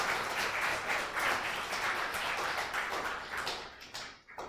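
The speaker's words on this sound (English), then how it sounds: "Please join me in giving a warm round of applause" An audience at a semiconductor ecosystem talk gives a warm round of applause as a speaker comes onto the stage, steady full clapping that thins and fades out in the final half second.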